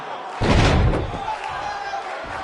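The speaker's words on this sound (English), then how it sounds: "We have a sold-out, record-setting crowd here for BCW tonight." Wrestling arena crowd noise from the WWE 2K19 video game, a loud surge of crowd roar and thuds early on that settles into a steady background murmur.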